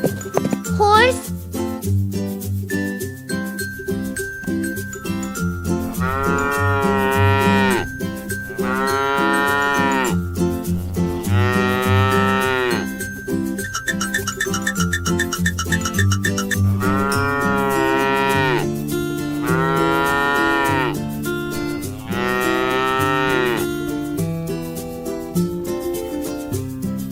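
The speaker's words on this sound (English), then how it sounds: "Dairy cow." Dairy cow mooing repeatedly, a series of about six long, loud, close lowing calls at steady intervals over a light background of music and jingling.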